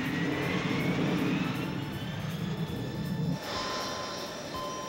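Steady droning cartoon aircraft engines hum continuously in flight, a low rumble with a higher whine layered above, fairly loud and close, shifting in tone partway through.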